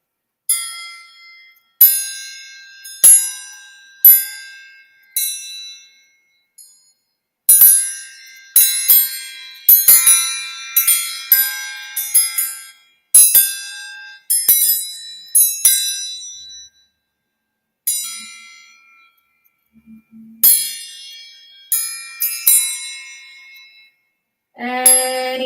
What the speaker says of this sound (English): Any takers for the wind chime?